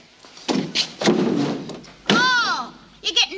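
A prison door being forced and banged, heavy thuds and thumps sounding near between bursts of shouting voices.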